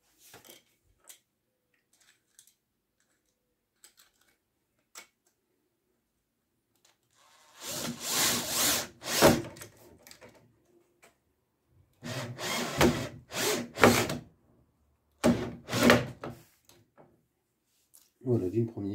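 A screw is driven into wood while a workshop cart is being built, heard as three short close-up bursts of grinding, whirring effort separated by quiet pauses, with faint small knocks before them.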